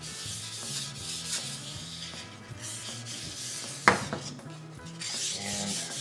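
Steady wet-sanding strokes with WD-40 scrape back and forth across a cast iron table surface, close by, with a sharp knock partway through and no talking.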